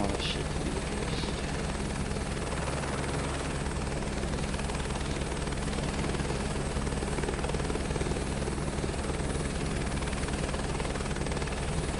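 A helicopter in Microsoft Flight Simulator 2024 drones steadily throughout, a loud, continuous rotor and turbine hum with rhythmic blade chop and no break.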